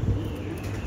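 A male racing pigeon, a race winner, gives a brief low coo, close and clear, lasting under a second.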